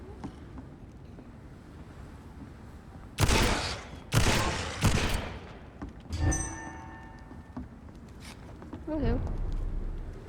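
Several loud gunshots from a weapon in the video game Vampyr, in separate bursts spread across the stretch, with thuds and game sound effects between them and a low game ambience underneath.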